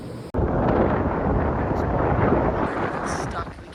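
Strong beach wind buffets the microphone in a loud, continuous roar, beginning abruptly and easing slightly toward the end.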